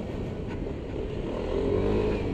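A W-Moto Nexy+ 180 scooter rides through town, its small engine giving a steady low drone with road and wind noise, close and continuous for a couple of seconds.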